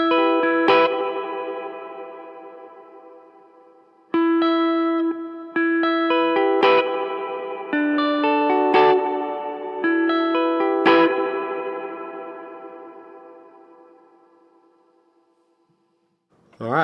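An electric guitar plays through a modded Line 6 M5 effects pedal, with struck notes and chords that ring out and fade into long processed tails. Several separate attacks are spread across the passage, with no talking.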